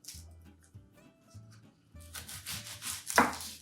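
A knife slices off the root end of a white onion, with a few soft scrapes and knocks on a board leading to a sharper, louder cut near the end, all close up.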